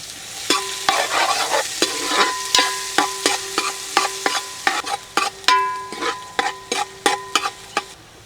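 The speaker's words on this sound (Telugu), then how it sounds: "రెండు చెంచాల ఆయిల్ వేసుకుందామండి ఒక మీడియం సైజు ఉల్లిగడ్డ చిన్నగా కోసుకుని వేసేసుకుందాం" One medium onion, finely chopped, frying in two spoons of oil in a pot for mutton mandi, with rhythmic metal spoon strikes and scrapes ringing against the pot over a steady close sizzle, and no talking.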